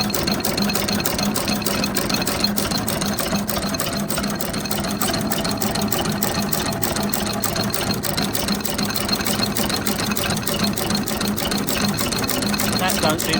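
A Ruston Hornsby AP 5.5HP stationary engine mid-restoration, smoking from a poor gasket, runs with a loud, steady, rapid rhythmic chugging and knocking throughout, close by, with a voice talking over it.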